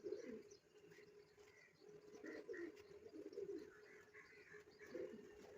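Racing pigeons at a white pigeon club tournament coo in soft, repeated low rumbles, with scattered chirps and faint outdoor ambience, fairly close and moderately quiet, no talking.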